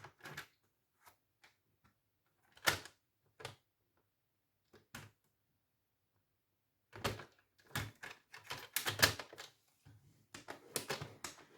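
A paper knife's straight edge is pressed and drawn across a sheet of paper to score a mark while making a card game case: sparse, dry taps and short scrapes, close by, with quiet gaps between.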